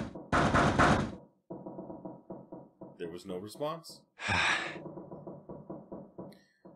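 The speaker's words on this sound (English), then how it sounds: "Junpei knocked hard on the door." Hard knocking on a door in the video game 999 (The Nonary Games) comes as two loud, dense bursts of blows, with a voice talking between them.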